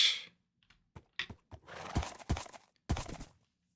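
In a video game, a horse whinnies briefly at the start, followed by a few soft thuds and then heavier clopping hoofbeats close by.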